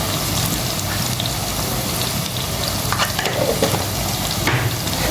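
Spices and dried coriander being stirred in a hot frying pan for a dhaba-style moong dal, a loud continuous sizzle with scraping stirring strokes close by and no speech.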